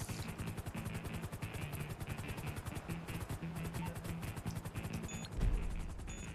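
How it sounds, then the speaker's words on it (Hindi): A helicopter in the video game GTA Online whirs with a steady rapid rotor chop, loud and continuous throughout, with a brief thump near the end. "मैं अपना हेलीकॉप्टर को ना सेफ एंड साउंड ना यहाँ पर कहीं पर लैंड करवाता हूँ"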